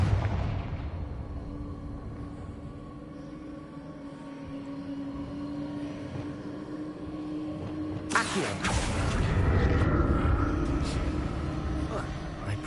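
In Hogwarts Legacy, the Confringo spell bursts with a sudden loud blast partway through, its rumbling roar lingering over a steady game hum while a voice speaks.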